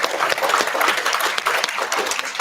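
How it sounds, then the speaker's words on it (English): Dense, steady applause from an audience at a seminar panel event fills the whole stretch, loud and close with no pauses and no talking. "So give yourselves a round of applause for showing up."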